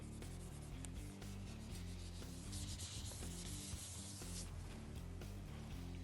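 An inner fairing surface on a Street Glide motorcycle being wiped clean before fitting, heard as close, continuous rubbing and wiping strokes at an even steady pace, fairly quiet, without speech.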